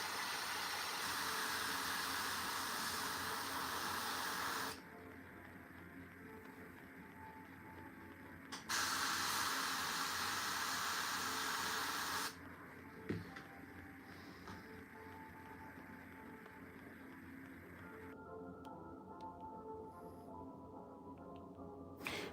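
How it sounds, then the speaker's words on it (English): An airbrush used for painting Warhammer miniatures gives two sustained bursts of airy hiss while its needle is cleaned, separated and followed by quieter stretches of low hum and small clicks. "I'll clean the needle of the airbrush"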